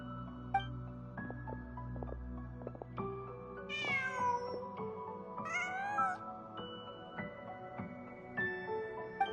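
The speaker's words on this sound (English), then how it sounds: "Just a cat." A cat meows in Genshin Impact, two clear rising meows a couple of seconds apart over soft game music, close and distinct.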